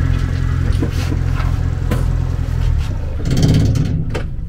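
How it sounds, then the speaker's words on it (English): A lorry's engine rumbles close by as the vehicle comes to a stop, a steady low drone punctuated by clunks and a brief rise in engine noise near the end. "Okay, we will stop the lorry here."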